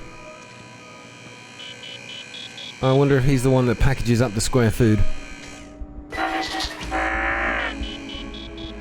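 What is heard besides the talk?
robot rover beeping in a video game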